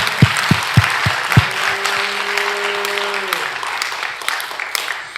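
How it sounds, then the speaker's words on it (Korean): A church congregation at a revival meeting breaks into steady applause, with a few loud close claps at the start and a sustained organ-like tone holding through the middle before the clapping thins out. "우리 한 박수로 하나님께 영광 올리겠습니다"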